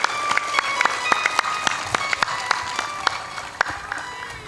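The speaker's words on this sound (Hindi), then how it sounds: "थोड़ा जोरदार ताली बजाए करो," A Hindi-speaking spiritual discourse audience claps in scattered, irregular bursts, with sharp individual claps standing out against a steady background murmur of the crowd.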